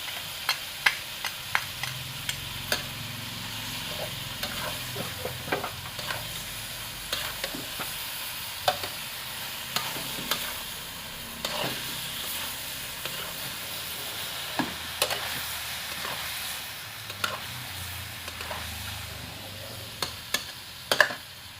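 Hot dogs stir-fried with tomato ketchup in a pan, a steady sizzle with frequent clicks and scrapes of the spatula against the pan, close and continuous.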